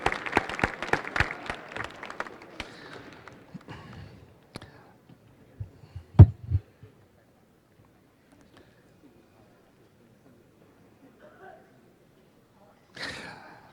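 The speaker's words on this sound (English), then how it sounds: "get another round of applause for Li Kung Fu" Audience applause at a Chinese New Year celebration, a burst of clapping in the opening seconds that thins into scattered claps and then fades to near silence, with a brief voice near the end.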